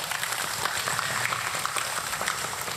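An audience at a humorous Islamic religious talk in Nganjuk claps in a dense, even wash of applause that stays at a steady level without pauses.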